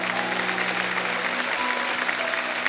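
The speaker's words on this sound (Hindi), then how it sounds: "ताली बज जाए इनके लिए।" A studio audience on a televised quiz show claps for a contestant in a steady burst of applause, with a low sustained musical tone running underneath.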